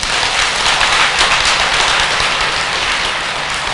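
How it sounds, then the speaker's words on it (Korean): Loud, dense applause from a temple audience for a Buddhist monk fills the space, a continuous wash of many hands clapping close and steady with no voices over it. "성정 스님한테 박수 한번 보내."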